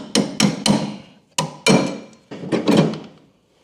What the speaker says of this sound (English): when you're in doubt, just hammer it out